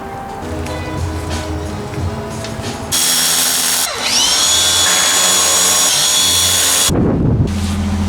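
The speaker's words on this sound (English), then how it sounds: "I'm gonna go ahead and give it my best shot to try to drill this out" A power drill whines steadily drilling out a broken stud, its pitch sagging and climbing as it bites into metal, with a brief pause near the end before spinning up again.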